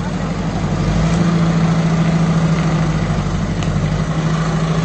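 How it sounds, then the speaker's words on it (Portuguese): A forklift engine idles loudly and close by, a steady low droning rumble that holds unchanged throughout with no voices over it. "mas esse Dariel é ruim de empilhadeira, né, Sandrinho?"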